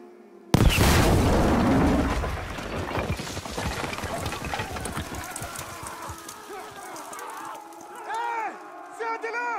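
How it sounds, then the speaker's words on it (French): Cannon firing in the video game Battlefield V: a sudden loud boom bursts in near the start and rolls into a long rumbling decay full of crackling debris, with faint voices and effects later. "On va utiliser ce canon!"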